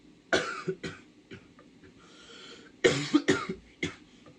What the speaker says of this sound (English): Fuck am I coughing for?